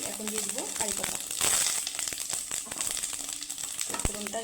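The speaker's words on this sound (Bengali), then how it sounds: "কড়াইতে একটু সামান্য পরিমাণে তেল দিয়েছি দিয়ে দিব শুকনো লঙ্কা আর এখানে দিয়ে দিব ফোড়নের জন্য গোটা সর্ষে" Dried red chillies and whole mustard seeds tempering in a little oil in a kadai for a chutney, a soft continuous sizzle with light crackles and a few clinks, close but quiet.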